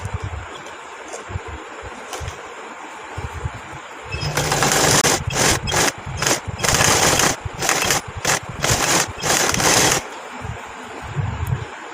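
A sewing machine stitches fabric onto a kurti neckline, loud rapid whirring bursts starting and stopping in several runs close by, with quieter room noise before and after.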